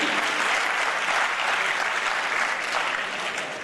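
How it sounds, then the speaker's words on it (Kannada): Audience applause at a public event in Gulbarga, a dense, steady burst of many hands clapping that holds at a strong level for the whole stretch, with no voices over it. "ಅವರಿಗೆ ಇನ್ನೊಮ್ಮೆ ಚಪ್ಪಾಳೆ ತಟ್ಟು ಅವರಿಗೆ ನಾವು ಅಭಿನಂದನೆಗಳನ್ನು ಹೇಳೋಣ."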